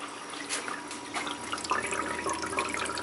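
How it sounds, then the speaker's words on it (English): Water rushes steadily through the newly filled cooling system of a restored 1971 Karmann Ghia converted to electric drive, pushed by an electric pump powered from an auxiliary battery; a close, hissing flow with faint splashes and no voices. "I'm running water in it now since this is the first time. Looking for leaks."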